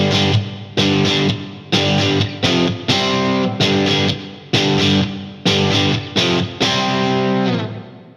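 Electric guitar through a distorted amp with reverb added after the amp, hitting a series of loud, evenly spaced chord stabs that each ring out briefly with a smooth ambient tail.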